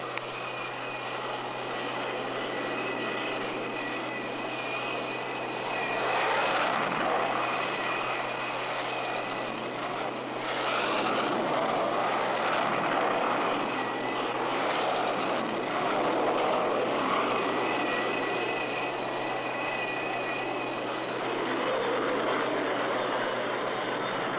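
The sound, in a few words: propeller aircraft launching from aircraft carrier deck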